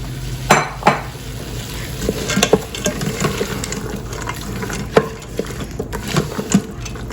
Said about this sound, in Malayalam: സോക്ക് ചെയ്ത് കഴിഞ്ഞ് 2 കപ്സ് കടല അതിലേക്ക് എന്നിട്ടൊന്ന് മിക്സ് ചെയ്യുക